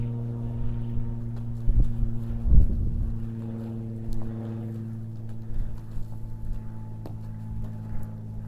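A horse's hooves clip-clop during a training session, a few scattered thuds over a steady low hum and light wind noise, fairly faint and with no talk.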